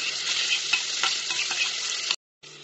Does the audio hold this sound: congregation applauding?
no